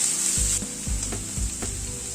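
Beans stirred in a hot frying pan for a quick, simple Bengali meal, sizzling steadily with a few rhythmic scraping strokes of the spoon, close up and with no talk.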